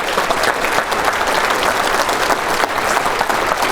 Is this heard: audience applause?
yes